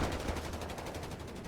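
Rapid, unbroken .30 cal machine gun fire in the Company of Heroes 3 video game, a dense rattling burst that stays loud and steady throughout with no voices over it.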